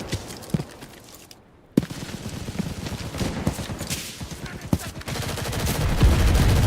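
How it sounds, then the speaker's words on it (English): Artillery and small-arms fire in the Enlisted video game, a dense rattle of rapid shots with several sharper heavy blasts cutting through, close and loud, with a brief quiet gap early on. "Artillery! Fire at the square!"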